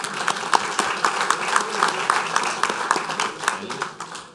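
Applause at a St. Tammany Parish Council meeting, a steady patter of hand claps from the audience lasting several seconds, moderately loud and even throughout.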